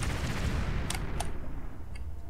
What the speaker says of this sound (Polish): To coś wybuchło.